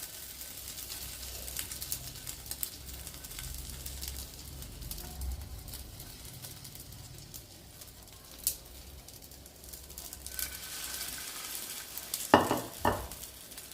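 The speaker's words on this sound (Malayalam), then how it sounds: "നമ്മുടെ മുട്ട മിശ്രിതത്തിലൊന്ന് മുക്കിയെടുത്തിട്ട് നമുക്കിത് പാനിനകത്തിട്ടൊന്ന് ഫ്രൈ ചെയ്തെടുക്കാം" Slices of egg-dipped bread frying in a pan on medium flame give a soft, steady sizzle with occasional stirring and handling clatter, including a sharper burst near the end.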